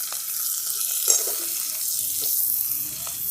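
Diced ridge gourd goes into a pan of frying potatoes, making a continuous soft sizzle with a small bump as the pieces land.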